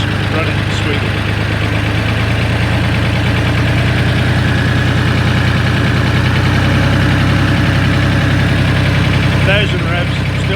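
A Ford 3000 tractor's diesel engine idles steadily at 800 rpm, a continuous even rumble with faint knocking, close and loud throughout, no speech.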